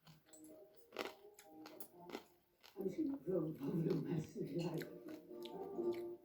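Crunchy pork rind, freshly fried, is chewed close to the mic with repeated crisp crackling bites and wet mastication, while someone talks in between.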